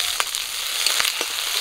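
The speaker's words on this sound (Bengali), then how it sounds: "কাঁচা লঙ্কা আর পেঁয়াজ হালকা ভেজে নিয়েছি" Chopped onion and green chillies fry in mustard oil in a pan, giving a close, bright sizzle with quick popping crackles over a short stretch.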